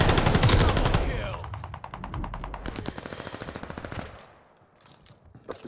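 Rapid automatic gunfire from a hard-recoiling gun in the shooter game Call of Duty: Vanguard, free-for-all on the Das Haus map, loud bursts of quick shots tapering off, with a voice briefly underneath.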